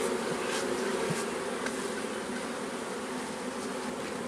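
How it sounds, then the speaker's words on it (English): A steady, close hum of many honeybees continues while the last bees are brushed off a hive frame, with no voices. "And just brush off any remaining bees"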